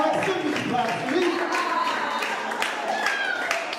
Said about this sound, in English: that sounds like sympathy claps to me